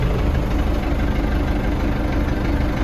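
MTZ 892 tractor engine running at idle, a steady close diesel rumble with a rough, knocking texture and no speech over it.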